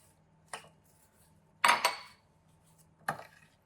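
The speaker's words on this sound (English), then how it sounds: "we are just going to add this topping on top, give it a good stir" A spoon stirs crisp topping into apples in a baking dish, giving three separate clanks against the dish, the middle one loudest, with quiet gaps between them.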